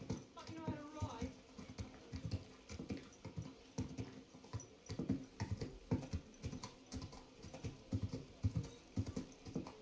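Horse hooves clop in a steady, rhythmic gallop across ground in the medieval video game Kingdom Come Deliverance II, continuing for the whole stretch at moderate distance, with game ambience beneath.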